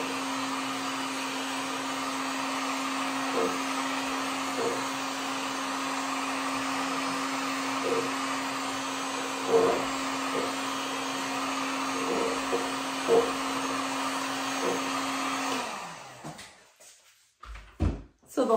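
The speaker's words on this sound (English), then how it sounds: "I'm just gonna take my heat gun." A heat gun blows a steady, loud whirring hum with a constant tone onto a sublimation jar for about fifteen seconds. It then cuts off abruptly, followed by a few close clunks and handling knocks.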